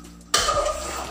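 Chicken masala with added garam masala stirred in a metal pan: a sudden scrape of the spoon against the pan, followed by a short spell of sizzling and shuffling, close and brief.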